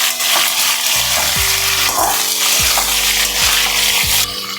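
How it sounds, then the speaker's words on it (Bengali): Ridge gourd frying and being stirred in a pan while a thin fish curry is cooked, with a steady broadband sizzle, soft scraping of the spatula and a low rhythmic hum underneath. "দিচ্ছি ঝিঙে। এটা দিয়ে আমি ভালো করে একটু কষিয়ে নেব।"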